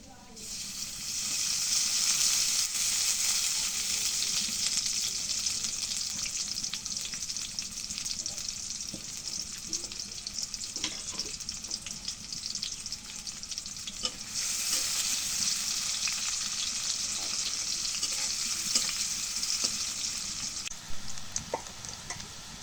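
Chopped onion fries in cooking oil for a home-cooked fish dish, giving a steady loud sizzle and hiss with occasional stirring clatter throughout. No voices are heard.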